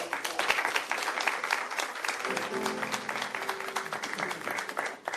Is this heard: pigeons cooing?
no